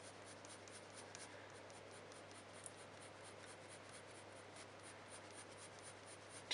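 Close, steady scratching of a pencil stroking back and forth across paper, soft and continuous with a faint hum underneath and no talking.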